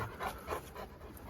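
Quiet, rhythmic panting from a large Kangal dog, several quick breaths in a row, faint and close.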